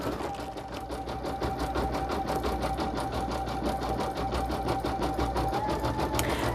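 A home embroidery machine stitches out a design, a fast, even needle rattle with a steady motor whine running continuously at moderate volume from start to finish.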